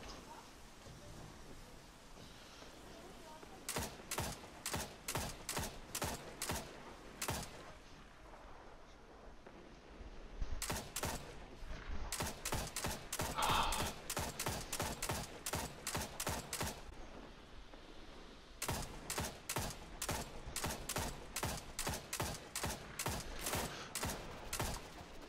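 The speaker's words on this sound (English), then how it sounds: "Sounds like somebody's using a grenade launcher." Rapid bursts of grenade launcher fire in the video game Destiny 2, volleys of sharp repeated shots in three clusters with brief pauses between, loud and close, no talking.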